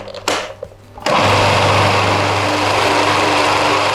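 Blender whizzing a vegan sauce of potato starch and lemon juice, a brief start and stop followed by a loud, steady high-pitched motor whir running close and continuous, with no talk.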